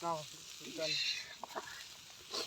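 Fish fries in oil on a tawa by a riverbank, with a soft, steady sizzling hiss, while a voice speaks briefly over it at the start.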